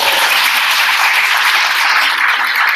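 A conference audience applauds Dr. Essie at a university big data conference, a loud, even round of clapping that holds steady throughout without pause.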